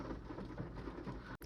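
Steady rain falls on a rainy day during car washing, a soft, constant hiss of drops with a faint rumble underneath. It continues evenly and fairly quietly, with no voices, before a brief dropout near the end.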